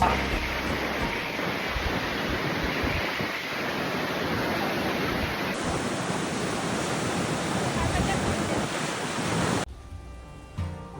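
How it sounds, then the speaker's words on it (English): Strong stormy wind roaring past the microphone by the sea in Sabah, Malaysia, with heavy surf crashing steadily underneath, loud and constant, before it suddenly cuts to quieter noise near the end. "The weather was super stormy up here, and it was incredibly windy"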